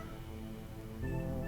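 A cat in the horror video game Do NOT Take This Cat Home lets out a single drawn-out meow that rises and strengthens at the end, clear and close, with no voices over it.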